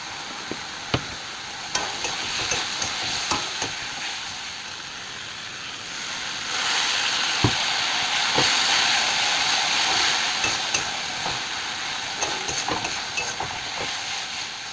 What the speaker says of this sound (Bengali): হলুদ দিয়ে আবার সেটাকে ভালো করে কষিয়ে নিলাম